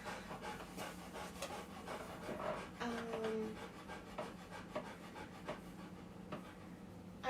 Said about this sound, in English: Can you guys still hear me over this Rottweiler making all that noise?